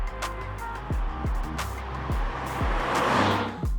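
The engine of a VW Golf GTI TCR with a 7-speed DSG gearbox climbs hard through repeated rapid upshifts, each rise in pitch cut by a quick drop, loud and close from inside the car.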